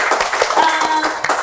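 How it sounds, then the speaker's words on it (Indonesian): An audience of teachers clapping for colleagues at a school gathering, a dense, continuous patter of hand claps over about a second and a half, mixed with voices talking. "Teman-teman boleh kasih tepuk tangan ya."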